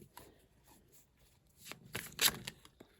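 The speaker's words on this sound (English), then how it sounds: "let's pick a few cards" Tarot cards riffle and slap as they are shuffled and picked during a tarot reading, a few soft flutters building to a louder, sharper burst of card noise near the end.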